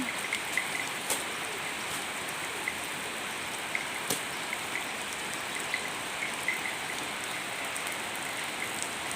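Steady rain falls on the ground and nearby surfaces, a dense continuous hiss with scattered sharper drops tapping close by, and no voices.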